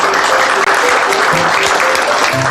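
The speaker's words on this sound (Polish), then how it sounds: "dzisiaj naprawdę duże brawa dla Ani" Steady applause from a crowd at a restaurant, dense clapping filling the whole moment, briefly dipping once, with a voice faintly audible underneath.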